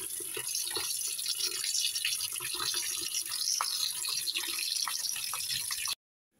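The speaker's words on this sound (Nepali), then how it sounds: "यो सुँगुरको मासुलाई चाहिँ धुनु पकाउनुभन्दा पहिले" Tap water runs steadily for about six seconds while raw pork is washed in a sink before cooking, a continuous splashing hiss with small drips and knocks, then stops abruptly.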